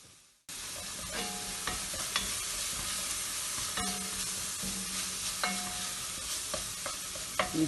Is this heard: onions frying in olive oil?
yes